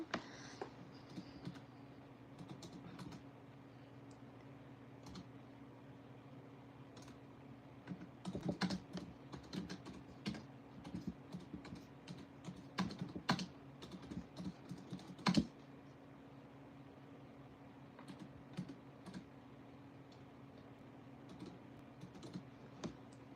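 Typing on a computer keyboard, irregular runs of close, light key clicks with a few sharper taps over a faint steady hum, continuing for over twenty seconds without talk.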